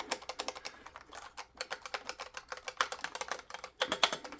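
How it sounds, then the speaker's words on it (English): Rapid, steady key presses on a heavy Razer Huntsman V2 Analog gaming keyboard, a dense run of crisp clicks up close with a couple of brief pauses and no talking. "Nice clicking sound."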